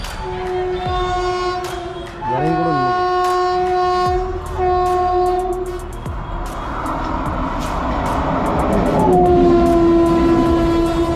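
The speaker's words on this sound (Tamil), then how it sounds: "ட்ரெயின் வந்துச்சு அப்படியே காட்டுங்க" A train rumbles past nearby with clattering wheels, its horn blaring several times in long, loud blasts.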